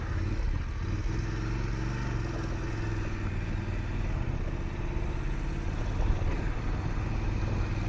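A Voge DSX 900 adventure motorcycle rides an off-road woodland trail over leaves and tree roots, its engine droning steadily and close with a constant rumble and light clatter throughout.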